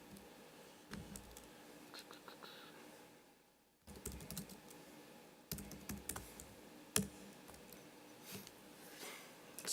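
Someone types on a computer keyboard, producing quiet patters of keystrokes in short bursts with a brief pause, heard faintly and up close.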